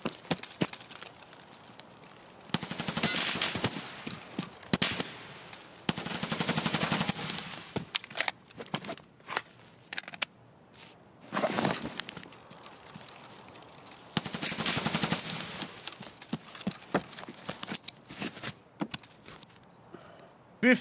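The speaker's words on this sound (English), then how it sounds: "is that guy shooting a VSS?" Suppressed VSS rifle fire in Escape from Tarkov on the Woods map comes in several rapid bursts of clattering shots, separated by quieter gaps with scattered single cracks and rustling movement.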